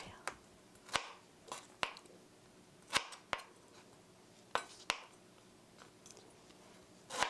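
A knife chops through food on a cutting board for tomato sauce over rice, making sharp, fairly quiet knocks at an irregular pace, roughly one every second, with no voices.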